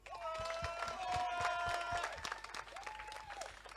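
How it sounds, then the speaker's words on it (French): Audience applause at an evening seminar forum, steady clapping with crowd noise and some tonal sounds layered over it, continuing throughout at moderate level. "Je vais vous demander de vous applaudir."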